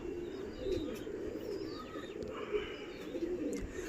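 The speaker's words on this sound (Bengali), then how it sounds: "বিকালে যখন পায়রা নামবে" Pigeons that have just landed in the evening coo softly in low, rolling murmurs, with faint chirps and a brief flutter of wings over a steady background.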